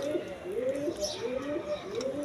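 Repeated throaty coos come from a pair of young adult nun pigeons at a pigeon farm, rising and falling in a steady rolling rhythm close by, with a faint background murmur.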